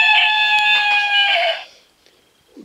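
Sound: rooster crowing

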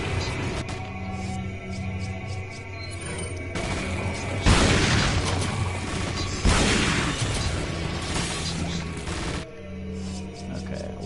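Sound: incendiary grenade explosion in Resident Evil 4, video game

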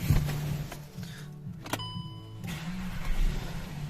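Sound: car engine starting

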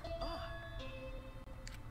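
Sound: bell chime in video game Danganronpa V3

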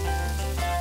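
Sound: Uiseong garlic-fed beef sizzling on a grill

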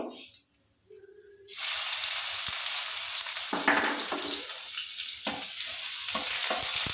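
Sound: garlic, dry chillies and black cumin frying in oil

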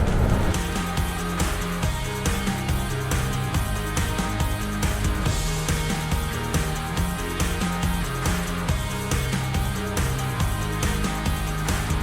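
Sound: traffic passing on highway

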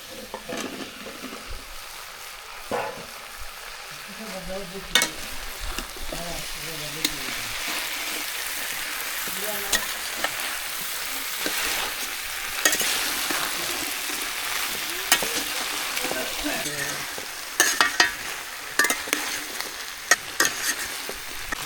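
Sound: okra frying and being stirred with boiled potatoes

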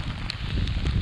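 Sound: strong wind

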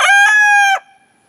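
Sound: rooster crowing

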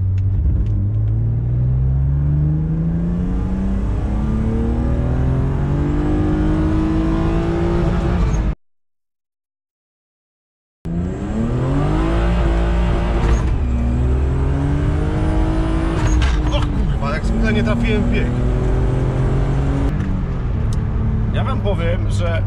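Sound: car engine revving at full throttle

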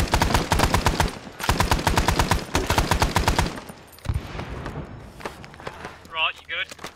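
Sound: gunfire in the video game Arma 3

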